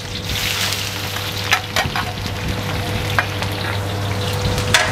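Chopped onion and ginger sizzle and crackle steadily in hot oil in a pan, with occasional scraping clicks of a spatula as the mix is stirred, close and fairly loud throughout.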